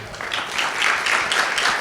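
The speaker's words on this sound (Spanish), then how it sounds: "Un aplauso para el doctor." Audience applause for a doctor at a Spanish-language talk, steady dense clapping from a room of people, continuous and moderately loud.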